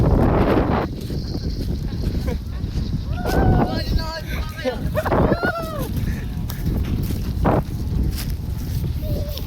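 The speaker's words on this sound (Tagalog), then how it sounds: "Lakas ang hangin." Strong wind buffets the microphone outdoors in a rural field, a constant heavy rush throughout, with people talking and calling out over it.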